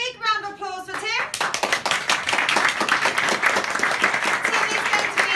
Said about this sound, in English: I want to have a big round of applause for Tim.